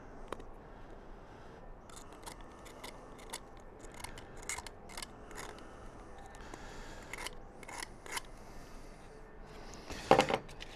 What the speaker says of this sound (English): razor knife, just kind of run across the edge there